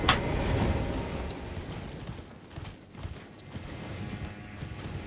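Horse hooves clip-clop as a mounted rider moves through a video game, a steady clattering at moderate loudness over a busy background with occasional mechanical clicks.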